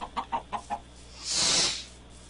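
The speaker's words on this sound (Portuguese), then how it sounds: "Olha a galinha, olha." A Minecraft chicken gives four quick, evenly spaced clucks, then a short burst of hissing noise follows. No voices are heard.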